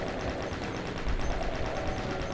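Continuous rapid chain gun fire in a Doom mod, a dense sustained rattle of shots that holds at a loud, even level for a couple of seconds with no talking.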